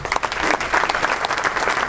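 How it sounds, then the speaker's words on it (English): An indoor audience at a Somerville civic event, with the Board of Aldermen present, gives a round of applause: dense, steady clapping from many hands, fairly close and loud, with a faint voice underneath. "please stand up and give them a round of applause."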